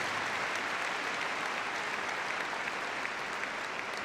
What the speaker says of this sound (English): That's well worth a round of applause.